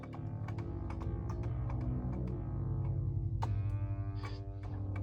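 A synthesizer remake of the Roland Jupiter-8 plays a busy run of layered tonal notes with sharp percussive attacks, fairly quiet but steady for about five seconds, with no talking.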